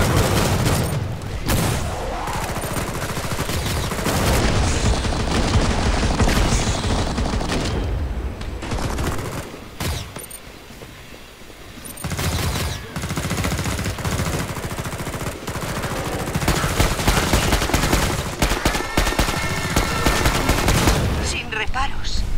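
Bursts of rapid automatic gunfire and booming shots in the video game Killing Floor 2 rattle on and off for a long stretch, loud and close, with brief lulls between volleys.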